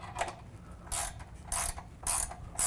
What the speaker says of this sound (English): And then we go ahead and tighten down the bolt up at the rocker panel.